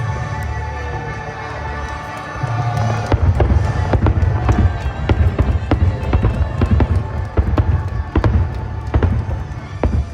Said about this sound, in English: this was the view of the Magic Kingdom fireworks